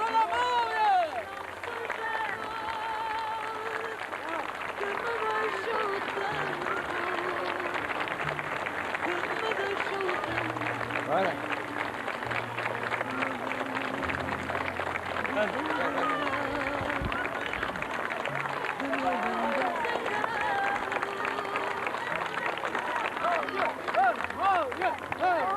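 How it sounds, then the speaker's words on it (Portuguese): Outside Lisbon's Basílica da Estrela, a large crowd applauds and shouts continuously as a car passes, a dense steady roar of clapping and cries with voices talking throughout. "palmas e um grito aqui na Basílica da Estrela"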